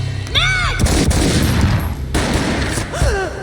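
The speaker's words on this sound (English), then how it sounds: "A gunshot boomed and she fell down in slow motion" Gunfire in the video game Max Payne: a loud burst of shots with booming reports and echoing tails amid game effects and whooshing sounds, close and intense, with no talking.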